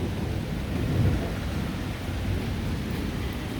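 A severe thunderstorm fills the air with low, rolling thunder and a dense, constant roar of heavy rain, loud and close throughout, with no voices.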